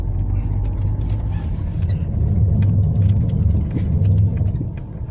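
A Renault Velsatis rolls along with a steady mid-pitched engine and road rumble, slowing under repeated braking on freshly fitted coated brake discs, the drone loud and continuous throughout.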